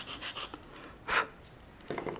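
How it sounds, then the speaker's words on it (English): Sandpaper on a block rubbed over a wooden wing rib for a wing tip, a few soft scratchy strokes with one louder rasp in the middle, close and quiet. "Block sand it a little bit."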